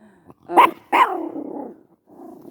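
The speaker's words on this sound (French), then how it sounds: "il y a un petit chien qui passe" A small dog passing by gives two sharp, close barks in quick succession, the second trailing into a rough, growly rumble before fading into quieter low noise.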